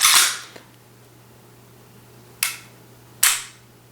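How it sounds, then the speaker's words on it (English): An HK Mark 23 pistol dry-fires in single action: three sharp mechanical snaps, one at the start and a close pair near the end, with faint reset clicks in between against a quiet low hum. "That's your single action pull right there with that beautiful reset."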